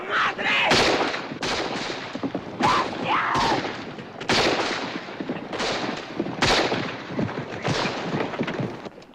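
Gunfire from the 1968 western film Bandolero crackles in repeated sharp bursts and volleys over several seconds, loud and close, with shouting mixed in.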